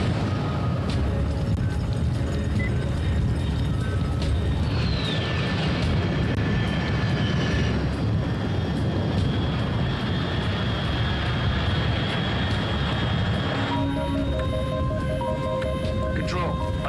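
An aircraft flies in the Metal Gear Solid Delta video game, a continuous broad engine roar with a descending whine partway through, mixed with cutscene sounds and voices talking over it.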